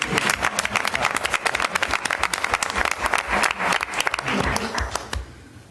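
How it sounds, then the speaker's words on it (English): An audience at a school board awards meeting breaks into applause, a dense, brisk burst of many hands clapping close and lively for about five seconds before tapering off quickly at the end. "Hey, James, you missed your applause."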